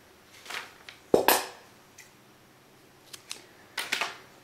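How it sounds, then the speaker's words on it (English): Scissors cutting crochet yarn, several short sharp snips and metallic clicks spread across a quiet room, close by, the loudest one near the middle, with no talk. "then I'll cut this yarn."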